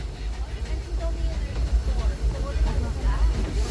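A Disneyland Railroad train rolls along its rails, heard from aboard as a steady low rumble with a faint hiss and light rattling throughout.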